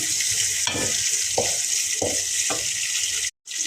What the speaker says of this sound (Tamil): இப்போ கொஞ்சம் நல்லா கிளறி விட்டுடலாம்